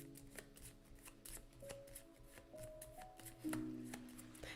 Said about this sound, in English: So let me shuffle these up.